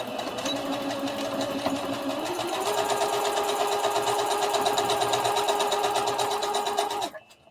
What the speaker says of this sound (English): put it right back under the sewing machine and top stitch it